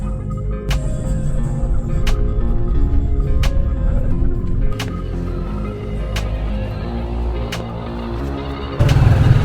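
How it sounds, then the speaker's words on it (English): A motorized tricycle carries passengers between barangays in Southern Leyte, Philippines, its engine a loud, rough, continuous drone. Sharp rattling clicks and knocks recur at a steady rhythm over the engine. "now we're riding a tricycle to the next barangay"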